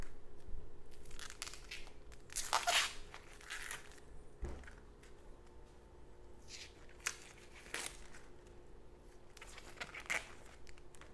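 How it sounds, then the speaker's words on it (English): An onion is peeled by hand on a kitchen cutting board, its papery skin crackling and tearing in several short bursts with quiet pauses between, close and fairly soft. "Peel the onion."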